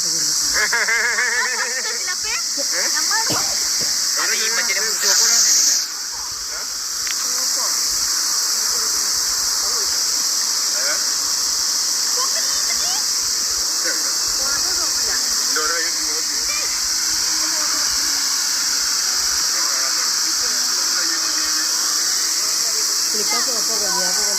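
Water rushes steadily at Marayur waterfall, a constant broad hiss that fills the whole stretch, with people talking faintly over it near the start.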